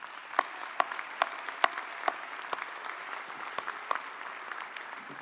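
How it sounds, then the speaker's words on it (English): Applause from a graduation audience at a university commencement, with scattered distinct claps rising from a steady, fairly distant patter that fills the hall for several seconds. "give them a well-deserved round of applause"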